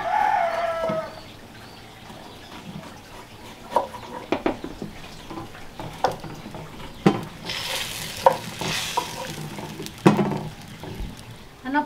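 Mashed refried beans (frijoles) stirred and frying in a pan while broth is added, giving a steady sizzle with repeated sharp scraping knocks of a spoon, growing busier and louder toward the end; no talk.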